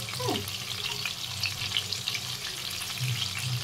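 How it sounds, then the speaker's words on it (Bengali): Chicken kababs fry steadily in a pan, a continuous close sizzle of hot oil with small pops and crackles throughout. "এইভাবে কাবাবগুলো সমস্ত ভেজে নিতে হবে"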